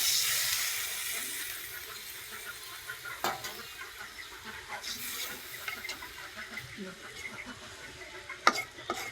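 Spices are stirred and sautéed in a pan for a hilsa fish curry with beans and potato, producing a quiet hiss with occasional spoon scrapes and taps, and faint background voices.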